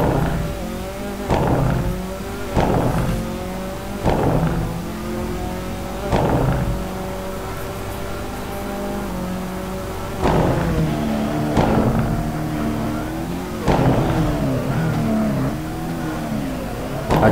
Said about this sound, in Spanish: que silencio y a escuchar el coche